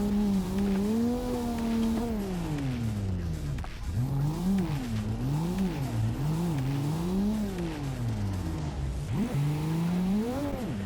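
A Volvo 740 engine in the racing game Assetto Corsa revs up and down through four gear shifts, its pitch rising and dropping repeatedly, loud and steady throughout.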